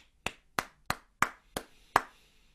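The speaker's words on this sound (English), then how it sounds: "I am going to do a rhythm of clapping" Six sharp hand claps in a steady, evenly spaced rhythm, close and crisp with quiet gaps between them.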